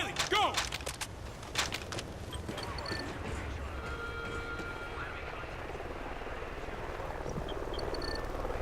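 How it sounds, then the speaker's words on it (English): A military helicopter in the Call of Duty Ghosts video game drones steadily as a continuous rotor roar through the whole stretch, with shouted voices and sharp combat noises breaking in near the start. "Take out the chopper!"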